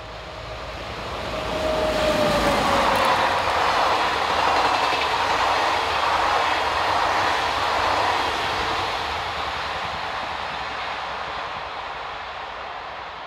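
An SNCF BB15000 electric locomotive, number 053, passes south of Cerquigny hauling a morning passenger train to Paris, a broad rushing roar that swells, holds steady and slowly fades.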